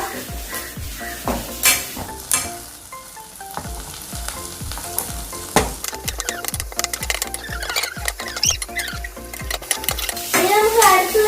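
Onion being stir-fried in a pan for a dragon prawn dish: steady, loud sizzling and frying with frequent clinks and scrapes of a utensil against the pan, close up and continuous.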